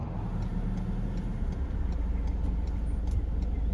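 A Ford Ranger ute drives along with a steady low engine and road rumble heard from inside the cab, with faint ticking on top and no one speaking.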